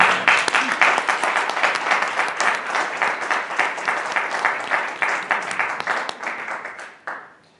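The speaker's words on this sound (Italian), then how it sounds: "facciamogli un applauso" A seated audience at an Italian conference applauds in a sustained burst of clapping that holds steady for several seconds, then fades out.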